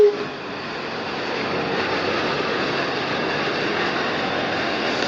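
An RC jet plane flying past with a continuous, broad turbine roar and whoosh, loud and steady throughout after a brief louder burst at the very start.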